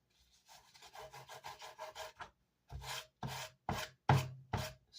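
Edges of a wooden Vox AC30 amplifier baffle are sanded by hand: a fast run of short rasping rubs, then slower, louder separate strokes, close and alone.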